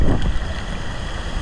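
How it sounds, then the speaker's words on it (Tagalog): Strong wind at a riverside campsite in Real, Quezon buffets the microphone in low, uneven rumbling gusts, loudest at the start, with a steady rushing hiss beneath. "Medyo malakas hangin."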